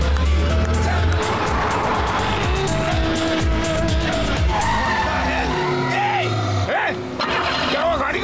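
A car in a Hindi comedy film scene skids with loud squealing tires and roaring engine, the skid sliding down to a stop amid music and voices.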